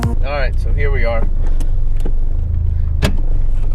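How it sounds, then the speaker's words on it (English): Toyota MR2 Turbo with an aftermarket exhaust idling loudly, a steady low rumble under a voice with a few sharp clicks and knocks. "this exhaust is loud"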